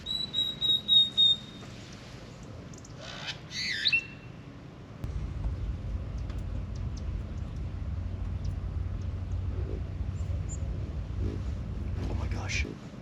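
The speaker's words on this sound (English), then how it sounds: "There are so many birds over here." Birds call at a campsite on a windy night, with a few high chirps and squawks early on, then gusty wind buffets the microphone in a low steady rumble.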